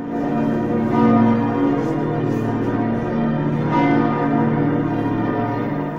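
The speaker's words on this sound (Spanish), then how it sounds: "la sonoridad de ese conjunto de 19 campanas que conforman el campanario de la Catedral de Constanza" The 19 large bells of the Cathedral of Constanza peal together in a rich, sustained ringing, their overlapping tones swelling and fading steadily without any voices.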